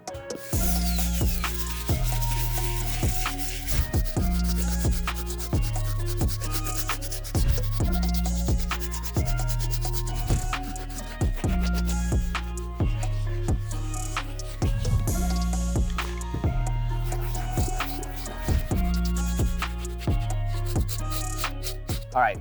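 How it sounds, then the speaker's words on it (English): A soft bristle brush scrubs an Air Jordan 5 sneaker in quick, rhythmic repeated strokes, close and crisp, over a steady tonal background. "So we're going to be using our soft bristle brush."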